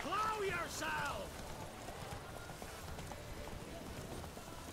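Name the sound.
horse hooves galloping in video game The Witcher 3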